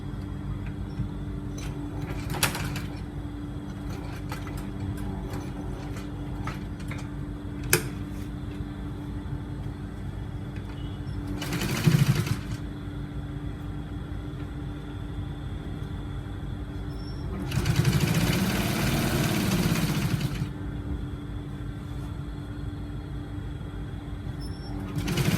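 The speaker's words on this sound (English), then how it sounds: "I'm going to sew it. Just going to sew it round." A sewing machine stitching around a shirt collar runs in two short bursts, a brief one mid-way and a longer two-second run later, against steady low room hum and occasional light handling clicks.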